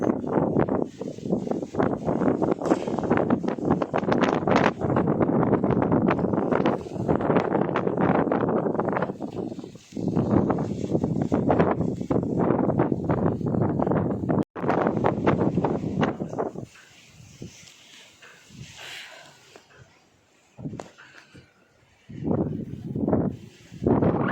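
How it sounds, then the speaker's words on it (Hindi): Strong wind gusting hard against the microphone outdoors, loud sustained roaring bursts that drop away briefly and return, with quieter lulls late on. "आवाज़ एक बार सुन लीजिए कैसी हवा चल रही है इस समय।"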